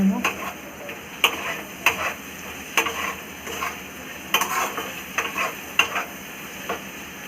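Okra curry with tomatoes is stirred in a pan over gas, a soft continuous sizzle broken by repeated scraping and tapping strokes of the spoon, close up and moderately quiet.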